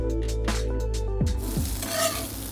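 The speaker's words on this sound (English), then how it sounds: "get the chorizo back in with the onions to really release all those oils" Chorizo and onions frying together in a pan, giving a steady close sizzle with stirring scrapes and clatter, no voices.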